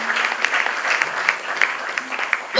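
A Pentecost church congregation bursts into sustained applause, dense and steady clapping filling the room with small peaks throughout, brief voices mixed faintly underneath.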